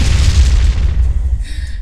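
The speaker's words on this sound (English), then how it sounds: "Explosion." Loud explosion sound effect: a deep, heavy boom that rumbles and decays over nearly two seconds, ending with a brief high ringing tone.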